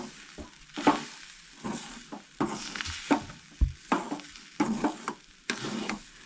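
Mixed vegetables frying in a pan as turmeric and garam masala are stirred in, with repeated close scraping and clattering strokes over a soft sizzle and no talk.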